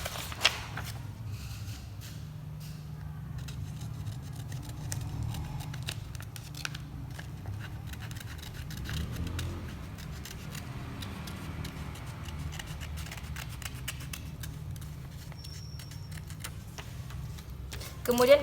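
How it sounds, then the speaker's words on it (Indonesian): Scissors snip through a paper shape pattern, with soft, irregular crisp cuts running steadily against a low room hum and a faint voice. "Kita gunting pola bangun datar ini."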